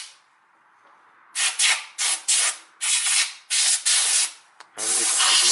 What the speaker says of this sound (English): And now I insert my filter in there, and there is this compressed air